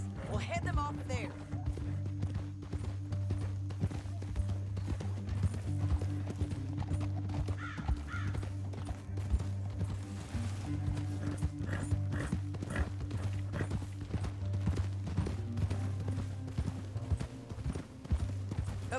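Horses gallop with a steady clip-clop of hooves along a canyon trail, running under continuous music and low voices, with an occasional neigh.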